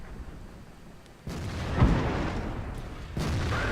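A tank cannon firing in World of Tanks, with a sudden loud boom that rolls into a sustained rumble, then a second blast starts near the end.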